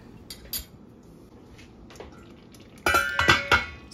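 A metal spoon scrapes and knocks against a cooking pot to loosen stuck, scorched rice porridge (arroz caldo), a few faint scrapes at first, then several louder clanking scrapes close by near the end.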